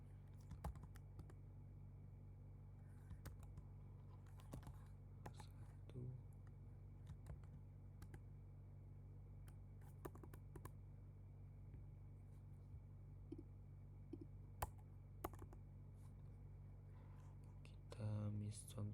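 Sparse key taps on a computer keyboard during coding work, faint scattered clicks over a constant electrical hum with soft low speech near the end.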